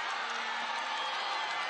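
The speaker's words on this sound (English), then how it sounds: "you can start hearing the crowd getting into it" A stadium crowd roars steadily at a football game, a dense, distant wash of cheering that continues without a break through the short stretch.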